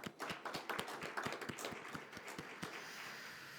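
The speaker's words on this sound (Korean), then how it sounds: "우리 하나님께 영광의 박수로 올려드리도록 하겠습니다." A church congregation claps at a Christmas celebration service. The applause is fairly faint and keeps a quick, steady beat of regular claps for a few seconds before fading into the room's ambience.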